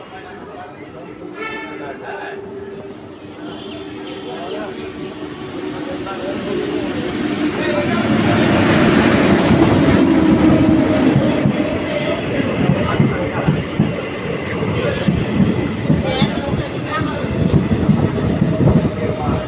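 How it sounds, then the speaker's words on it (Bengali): A train at Nabadwip Dham railway station rumbles and clatters, growing louder around the middle and staying loud, with people talking over the noise. "নবদ্বীপ ধাম থেকে আমরা ট্রেনে উঠবো"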